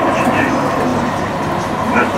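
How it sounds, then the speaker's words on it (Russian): Steady, loud rumble and rattle of an electric commuter train in Kyiv riding along the tracks after emerging from underground, filling the whole stretch without a break. "Наша электричка вышла из-под земли."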